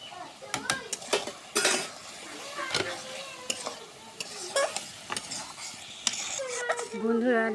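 A vegetable curry with garlic (bitter gourd, potato and drumstick) is stirred in a pan over a light sizzle, with frequent metal spoon scrapes and clanks against the pan in an irregular rhythm.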